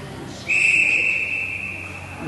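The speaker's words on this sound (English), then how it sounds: "Over to Bork, and we have a whistle." A referee's whistle blows once in a single sustained shrill tone at a ringette game between Team Manitoba and Team New Brunswick, held for nearly two seconds over quiet arena ambience.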